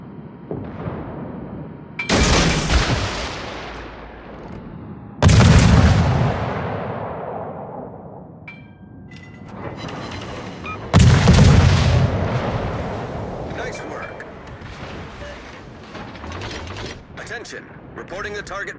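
Naval guns fire in a video game clan battle: three heavy, booming salvos with long rumbling decays, separated by quieter mechanical whirring and clicks.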